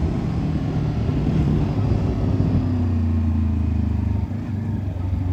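A Voge 525 DSX motorcycle engine cruising at 4000 RPM and about 90 km/h, a steady low droning hum with buzzing harmonics and wind rush, continuous and fairly loud throughout with no talk.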